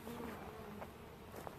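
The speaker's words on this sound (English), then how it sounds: "there are quite a few bees going back up in that tree" A honeybee swarm buzzes steadily around a tree during a swarm capture, a continuous close drone with a few brighter passes as individual bees fly near.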